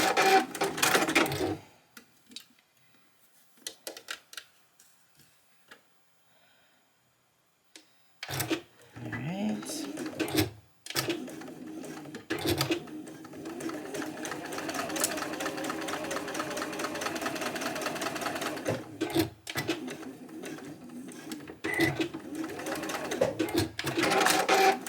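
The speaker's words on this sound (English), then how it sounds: "So just go ahead and sew those at 5/8 of an inch seam allowance. Back stitching at the start and end." A home sewing machine stitches seams at a 5/8 inch allowance with back stitching at the start and end, sewing a Butterick 6814 garment. The motor whirs in several loud bursts separated by short pauses and quiet gaps.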